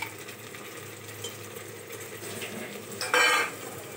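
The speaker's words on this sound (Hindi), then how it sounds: "सो गाइस, अब डालूंगी मटर।" Green peas tipped into a pan with ginger garlic paste and stirred, a soft steady sizzle with a short, brighter scrape of a spoon against the pan near the end.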